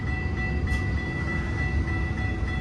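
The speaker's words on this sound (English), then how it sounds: "Keep going, train." Freight train rolling past a level crossing at dawn, a steady, continuous low rumble and rail noise with a faint whine, sustained and fairly near without any horn blast.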